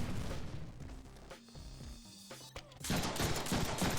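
Bursts of gunfire and booming blasts from the 2013 Deadpool game on PC, with a brief tonal lull before heavy shooting resumes loudly.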